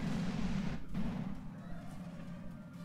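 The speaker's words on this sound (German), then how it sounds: "Von den Explosionen darf man sich nicht stören lassen, aber ich erschrecke mich trotzdem." Explosions rumble aboard a ship during an escape sequence in a video game, deep booming bursts heard at close range, the loudest in the first second, then a steadier low roar continuing underneath.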